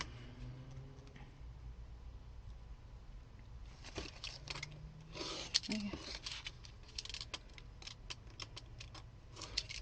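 Quick scratchy slicing strokes of a blade through paper, a run of short cuts in the second half, close by over a low hum.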